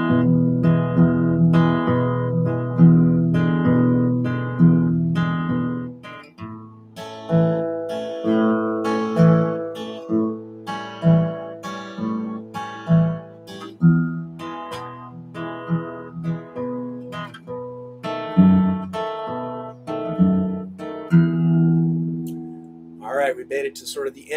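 Fingerpicked acoustic guitar moving through a chord progression and ending on a turnaround lick, each plucked chord ringing out clearly in a steady pattern, close and alone without talk.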